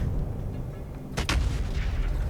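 Artillery fires in the video game Factorio, a pair of sharp, close booms in quick succession over a steady low rumble of machinery.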